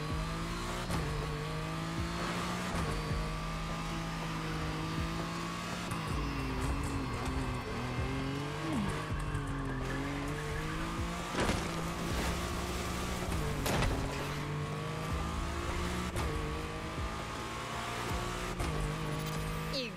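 Lamborghini super SUV in The Crew Motorfest racing game, its engine droning steadily with rising and falling revs through gear changes, occasional tire squeal, and layered music-like tones throughout.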